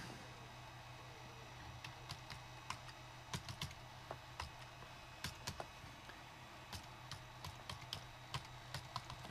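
Fingers type a short command on a computer keyboard, a run of light, irregular key clicks close by with small pauses between bursts, no voices.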